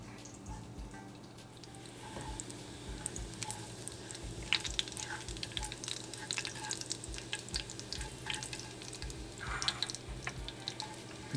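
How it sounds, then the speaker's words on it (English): Cumin seeds cooking in a pan for dal tadka, a soft, steady sizzle with faint crackles and small pops and a few clinks, quiet and continuous. "We'll let the cumin cook for about a minute."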